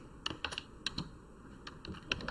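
Computer keyboard keys clack in short, quick bursts of separate presses as shortcuts are typed in MS Word, close and fairly faint, with no talking.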